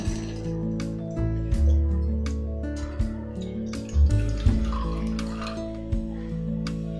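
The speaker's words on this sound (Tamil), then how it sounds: "கூடவே ஒரு 1/4 கப் அளவுக்கு தண்ணி சேர்த்துக்குவோம்." Water is poured into a kadai holding grated jaggery, with splashing and pouring over clinks and knocks of metal pans and utensils, close and fairly loud.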